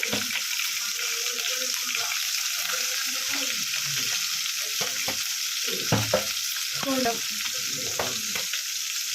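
Ginger garlic paste fries in a little oil in a kadai with a steady, close hiss. Sharper clicks and scrapes break in around the middle as it is stirred, and no one speaks.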